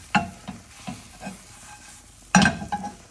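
An uttapam frying in a hot pan, with soft sizzling and a few scraping, pressing sounds from a utensil, one louder clatter near the end, close and quiet.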